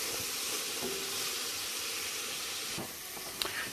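Garlic cooking in oil in a pan, a steady close sizzle and hiss running throughout with a small pop near the end; no talking.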